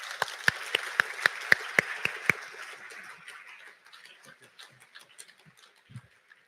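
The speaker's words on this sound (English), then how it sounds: "please put a huge round of applause and help me welcome the senator on stage" An audience at an opening ceremony bursts into applause to welcome a senator on stage, opening with several sharp, loud, evenly spaced claps before thinning into softer, scattered clapping that fades out.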